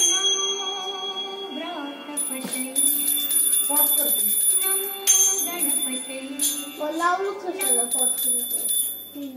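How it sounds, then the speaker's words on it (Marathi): A small prayer bell rings rapidly and brightly without pause during an aarti while voices sing and chant along close by. "एक घंटी बघ."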